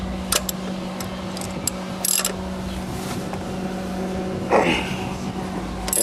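A socket welded onto a chrome-covered lug nut on a Honda Civic is turned, giving a few sharp metallic ratchet clicks and scrapes over a steady background hum, with a louder grinding turn near the end.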